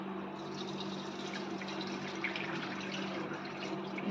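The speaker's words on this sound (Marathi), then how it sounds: "हे पाणी काढून घ्यायचं आहे आपल्याला।" Water drains off washed urad dal in a soft, steady trickle and pour, fairly quiet and close, with no voices.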